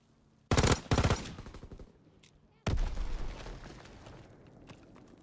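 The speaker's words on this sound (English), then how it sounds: "it's the first burst rifle ever to be implemented in this game" Itra Burst rifle gunfire in a video game: two sharp, loud bursts of rapid shots close together, then a heavier blast whose rumble fades away, with no talk.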